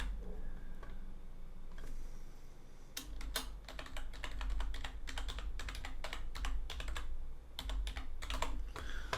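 Rapid bursts of clicky computer keyboard typing as an email address is entered, close and fairly quiet, with short pauses between runs of keystrokes and no talking.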